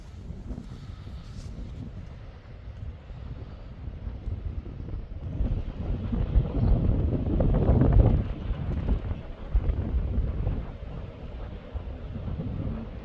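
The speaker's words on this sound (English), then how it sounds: "there's a big southerly wind rolling in. It's gusting about 35 miles an hour." Strong southerly wind gusting at about 35 mph over a harbour wall at Ballycotton Pier in southern Ireland, a rough, roaring buffet against the microphone that swells louder in the middle and eases off.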